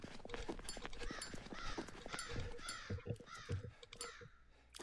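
Crows caw repeatedly in harsh, overlapping calls in the horror video game Shadow Corridor, against a busy background of clicks and rustling, fairly faint overall.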